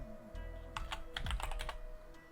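Typing on a computer keyboard: a quick run of soft key clicks in the middle, close and fairly quiet over a low steady hum, with no talking.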